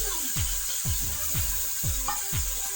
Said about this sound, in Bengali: এখন কিছু সময় নেড়ে ছেড়ে নেব, আরও কিছু সময় নেড়ে ভালোভাবে মিশিয়ে নেব